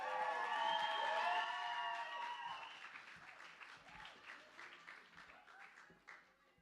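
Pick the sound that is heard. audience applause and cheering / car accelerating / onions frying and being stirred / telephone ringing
audience applause and cheering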